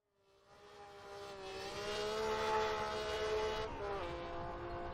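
A Maserati V12 race car engine from a sim racing game rises from silence into a sustained, harmonic-rich tone, steady for a few seconds before the pitch dips as the revs change.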